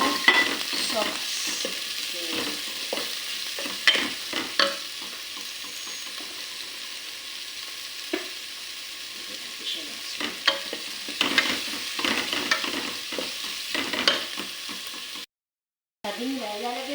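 Garlic and onion sautéing in a pan for sopas, a steady sizzle with occasional stirring scrapes and clinks, while a person talks intermittently over the cooking.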